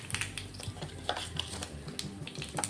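Mustard seeds sizzling and popping in hot oil for a tempering, with scattered crackles and clinks of a spoon against the pan over a low hiss.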